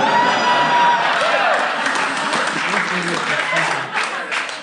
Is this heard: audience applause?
yes